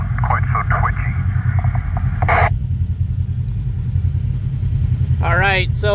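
A Kawasaki KRX 1000 side-by-side idles and grumbles in low range while crawling over steep, rough rock, a steady low engine drone throughout with brief mechanical whines on top and no talk.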